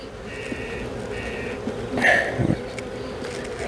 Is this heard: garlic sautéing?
no